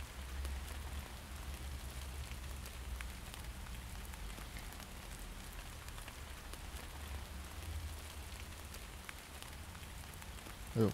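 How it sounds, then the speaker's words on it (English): Soft, steady patter of rain on a surface, faint and continuous, with a low background hum and no voices. "Oh, and it's raining."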